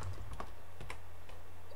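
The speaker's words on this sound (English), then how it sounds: "I am playing on a new keyboard, which is meant for my new computer" Keys clatter on a new computer keyboard in quick, irregular bursts of clicks, close and fairly quiet, with no voices over them.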